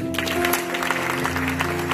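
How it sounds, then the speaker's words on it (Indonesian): Brief burst of applause from a church audience, dense clapping layered over a steady low hum and tonal background, continuous for the whole moment. "Tepuk tangan"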